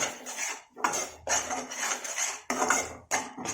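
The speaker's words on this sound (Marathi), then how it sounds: "आता हे आपण व्यवस्थित मिक्स करून घेऊ" A spice mixture of chili powder and masala stirred in a pan for shev bhaji, with bursts of metal spoon scraping and clattering against the pan, separated by short pauses, close and loud, no voices.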